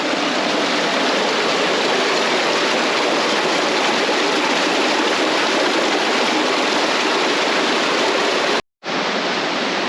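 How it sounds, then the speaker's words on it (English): Small hidden waterfall on a mountain hike in Rocky Mountain National Park, a steady loud broadband rush of falling water that fills the whole clip, briefly cut out near the end, with no voices. "that was kind of cool finding that extra credit waterfall there"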